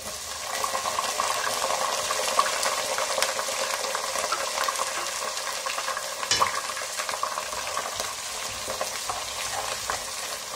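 Chopped ginger and small local garlic sizzling in hot oil after mustard seeds, cooked for raw mango pickle: a continuous close crackling sizzle with light stirring scrapes and a brief clatter partway through.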